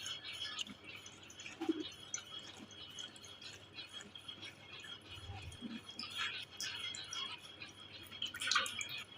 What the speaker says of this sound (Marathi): इथे आपला चिंचेचा कोळ तयार आहे. गाळून घेते.